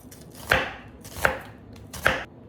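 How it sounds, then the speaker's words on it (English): A knife slices through red onions on a board in three distinct, evenly spaced strokes, each a crisp close cut with quiet pauses between. "We're gonna slice some red onions too."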